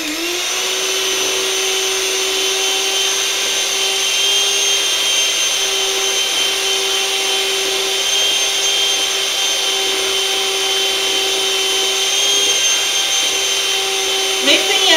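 Electric hand mixer running on high to whip shea butter, a steady whirring motor drone held throughout with a constant pitch, close and loud.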